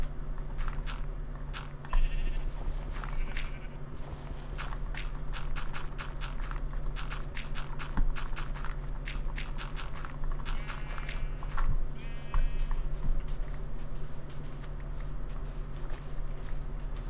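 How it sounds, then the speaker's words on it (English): Minecraft sheep bleat a few times at moderate distance over a steady background hum, mixed with rapid clicking of keys and small block sounds. "These poor sheep, they don't know what to do"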